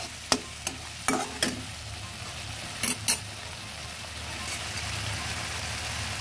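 Tengra fish curry masala with aubergine and potato stirred after water is added, a few sharp scrapes and clinks of a spatula against the pan over a low steady simmer, close and alone.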